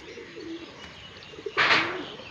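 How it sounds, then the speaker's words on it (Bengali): Pigeons on a rooftop give soft low coos, then one louder, closer burst of cooing near the end against quiet outdoor background. "পায়রাগুলো দেখা যায়।"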